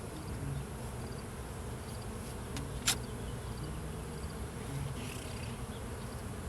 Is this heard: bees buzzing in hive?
yes